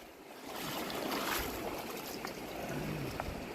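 A creek on the Continental Divide trail between Silver City and the Gila River rushes in a steady, broad wash of moving water, close and fairly quiet.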